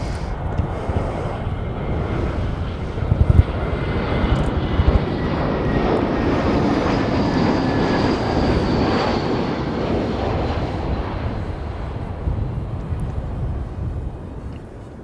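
Air New Zealand airliner at Christchurch airport in strong crosswind, a loud, steady jet engine roar that swells and holds broadband throughout, with a rising whine partway through and no talk over it.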